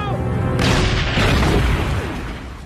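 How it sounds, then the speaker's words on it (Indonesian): A deep booming cannon shot from a war film, with a rumbling tail that slowly fades, following a brief moment of voice. "Satu tembakan pun dilepaskan ke arah mereka."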